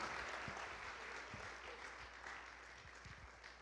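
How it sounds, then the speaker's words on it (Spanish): A church congregation applauds, a steady, faint wash of many hands clapping together, with a few individual claps standing out. "Give him a strong round of applause."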